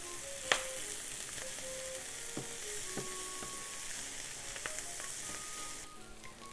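Buttery soy sauce corn frying in a pan, a continuous close sizzle and crackle with scattered sharp pops and light stirring clicks, no voices.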